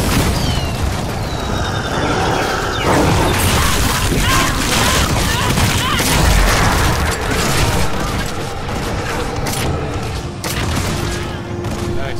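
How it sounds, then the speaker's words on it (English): A dark bomb thrown in the Nosgoth video game bursts amid dense, continuous crackling blasts and booms, loud and layered over game noise with some talk underneath. "Throwing a dark bomb down."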